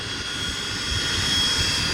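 Steady broadband roar of a jet airliner with tail-mounted engines at Dulles airport, a loud continuous rush with a faint high whine, constant throughout with no talking.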